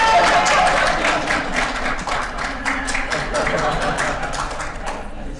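A keynote audience at the StudioPlus user conference gives dense, steady applause for several seconds. Quick, even claps fade slightly toward the end, with a bit of murmuring mixed in.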